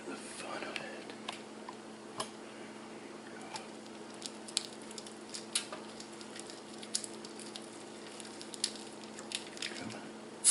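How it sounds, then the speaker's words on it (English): Beef pinwheels sizzling in a hot non-stick pan, a faint steady crackle with scattered small pops and spits, heard close with a low hum behind it. "Listen for the sizzle."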